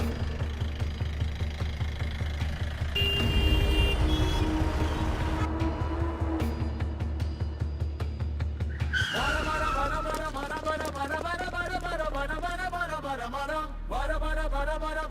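A police van starts up and pulls away, its engine revving and tires scraping loudly before fading. Rising tonal music then takes over in the second half.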